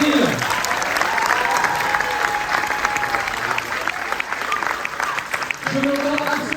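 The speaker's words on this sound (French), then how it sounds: "Philippe Lefebvre et Franck Dubosc, on peut les applaudir." At a film premiere in a cinema, an audience gives steady, dense applause to guests arriving on stage. The clapping is sustained and fairly loud throughout, and a voice talks over it.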